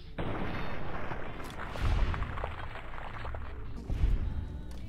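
Gunfire in Fallout: New Vegas: a dense, continuous barrage of shots with two heavier booming bursts standing out, loud and close throughout.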